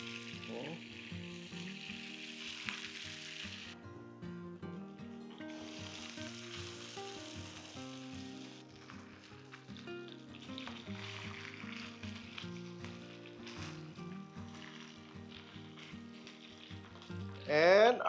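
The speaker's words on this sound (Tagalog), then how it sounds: "And now, we will fry our homemade luncheon meat." Homemade luncheon meat fries in hot oil with a steady, crackling sizzle that runs the full length, close by, over a soft layer of tonal background sound.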